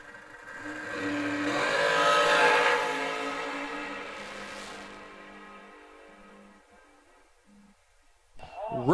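A race car engine roars past on a racetrack, swelling loud and then fading into the distance, with a commentator's voice faintly present.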